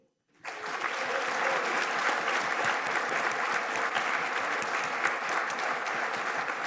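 A conference audience bursts into applause after a brief silence, steady, thick clapping from a large crowd lasting several seconds at an even, fairly loud level.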